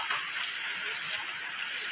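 Steady rain falls outside around midday, a soft continuous hiss of drops with no pauses and no voices, holding at an even moderate level throughout.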